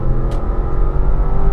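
A car's engine roars hard under full throttle, a loud, close, steady low growl with a deep rumble and no pause, heard from inside the cabin.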